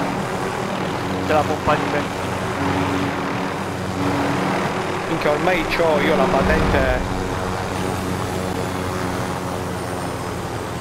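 A helicopter in Call of Duty: Modern Warfare Warzone drones steadily throughout, a loud continuous engine and rotor hum under two players chatting over it.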